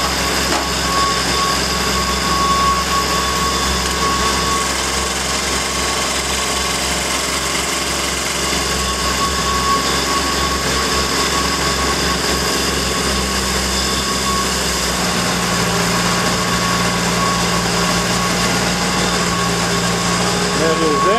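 A WW2 six-wheel jeep engine runs steadily in two-wheel drive, a loud continuous mechanical drone with a whine on top, the pitch shifting slightly partway through.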